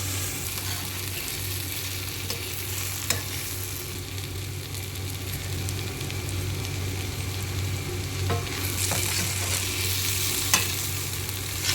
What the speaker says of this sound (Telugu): ఇలా చల్లుకొని కలిపేసుకోవాలి